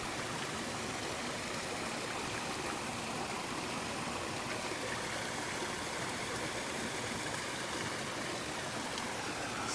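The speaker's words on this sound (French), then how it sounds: "Je te montre une rivière miniature." Small stream of rainwater flowing after a downpour, a steady broadband wash of running water heard up close and continuous, with no voices.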